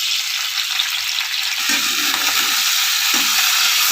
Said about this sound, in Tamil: இலையை போட்டு நல்லா வதக்கிக்கலாம்.